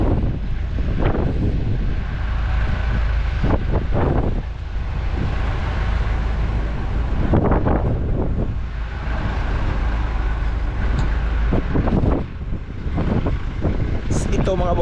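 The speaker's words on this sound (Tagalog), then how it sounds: "Lakas ng hangin ngayon" Strong wind buffets the microphone aboard a boat at sea, a constant loud roar with low rumble and gusty surges, while a voice breaks in now and then over it.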